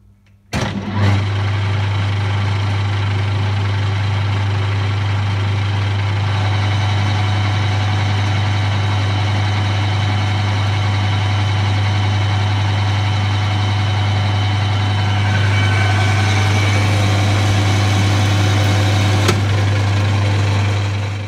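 Benchtop lathe cutting metal with a high-speed steel tool, starting with a sharp onset and then holding a loud, steady low hum with a continuous cutting hiss above it.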